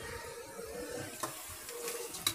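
Cooked mutton is stirred into hot, sizzling masala for biryani, a soft frying hiss with faint scraping of the spoon, quiet and close.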